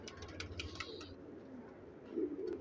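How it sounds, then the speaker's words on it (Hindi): A low pigeon coo near the end, faint, follows a few brief chirps over a quiet, hissy background. The birds are Shirazi pigeons. "बहुत खूबसूरत कबूतर"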